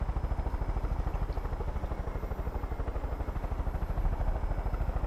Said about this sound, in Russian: Летим на вертушке.